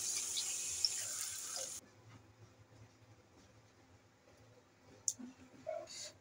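Water poured from a tap or vessel into fried spice masala for a Bengali fish curry, a steady broadband rush for a couple of seconds, then stopping, followed by faint kitchen clinks.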